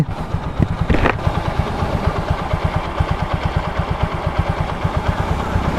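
A TVS Apache RTR 160 4V motorcycle idles at low RPM up close, its engine thumping in a steady, even pulse with a short higher-pitched flare near the start and no ticking.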